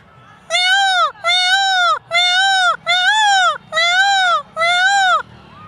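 A man mimics a peacock's cry with six loud, evenly spaced, wailing calls of similar length, close up and set against a quiet background.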